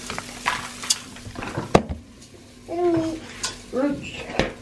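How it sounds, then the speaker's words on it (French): Rice and chorizo are stirred in a frying pan, a spoon scraping and swishing through the food amid a soft sizzle, with people talking nearby. "on va ajouter le riz et le chorizo. Alors il faut mélanger"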